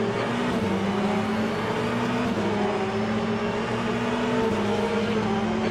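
A hypercar or GTE race car in Le Mans Ultimate roars at full throttle, its engine note held high and steady and climbing through the revs, loud and continuous throughout with no talk.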